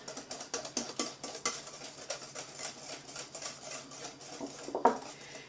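A utensil stirs chocolate chip bar batter with melted butter in a mixing bowl, giving soft repeated scrapes and clinks at a quiet, uneven rhythm, with no talking.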